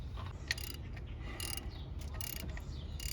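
A socket wrench ratcheting on a 2.4 Ecotec engine during timing chain work, a few short bursts of metallic clicking at an irregular pace, close by over a low background rumble.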